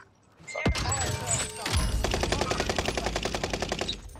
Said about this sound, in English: There's people shooting on top of prison.